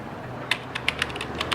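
Rapid, irregular keystrokes on a computer keyboard, quiet and close, clicking in short bursts over a low steady hum with no voices.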